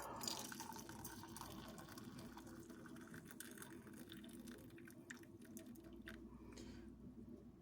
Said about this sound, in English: Add some boiling hot water.